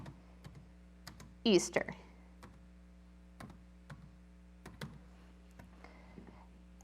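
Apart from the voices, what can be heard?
typing text on a computer keyboard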